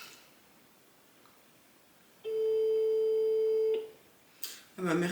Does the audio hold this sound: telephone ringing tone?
yes